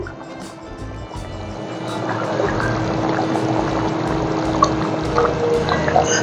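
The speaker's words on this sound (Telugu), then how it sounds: "ఇప్పుడు నేను ఈ మన ఫిష్ కర్రీ దగ్గరకు వచ్చాను చూడండి మస్తుగా ఉడుకుతుంది చూసారా మామూలుగా ఉడకట్లేదు" Nellore-style chepala pulusu, a fish curry, boiling hard in a pot on the stove: a steady bubbling, gurgling simmer with close, continuous liquid churning that grows slightly louder.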